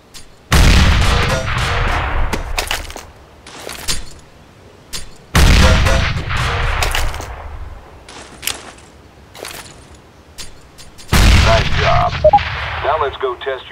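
Three loud grenade explosions from Counter-Strike: Global Offensive, each a sudden booming blast followed by a rumbling, crackling decay, spaced roughly five seconds apart, with faint game effects in the gaps.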